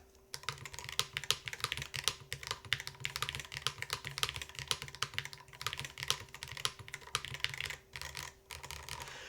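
Fast, steady typing on a mechanical keyboard fitted with metal GMK keycaps, a dense run of close, crisp key clicks and clacks with no talking.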